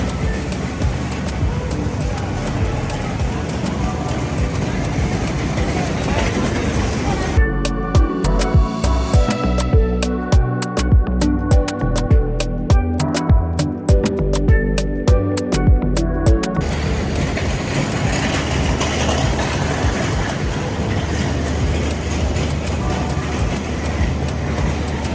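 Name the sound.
Suborna Express train running from Chittagong to Dhaka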